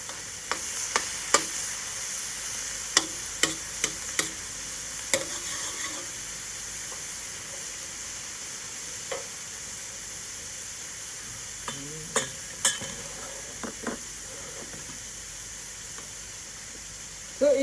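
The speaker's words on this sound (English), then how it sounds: "I've got 2 eggs there. Scramble them. Let them set a bit." Two scrambled eggs frying and setting in a hot pan for fried rice, a steady soft sizzle broken by scattered clicks and scrapes of stirring, with no talk.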